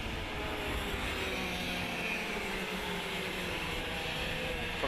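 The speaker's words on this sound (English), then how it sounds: "Bo Casagrande, the 77 flat out karts machine, trying to hang with them." Racing karts running flat out at a Western Australian kart championship, a continuous distant engine drone from the track that stays steady throughout with no talk.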